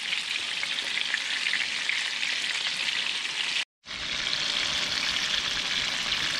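Thin pieces of cobia fish fry in a pan with a loud, even, close-up hiss that cuts out for a split second before the sizzle resumes just as strongly.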